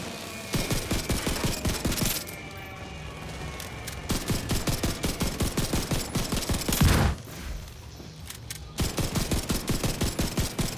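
Heavy automatic weapon fire from The Division 2, fired in long rapid bursts with brief pauses between volleys and a loud boom near the middle, dense and close with no talking.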